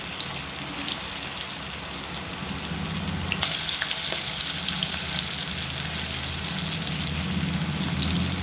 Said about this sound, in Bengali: মেখে নিয়ে এবারে ভাজছি।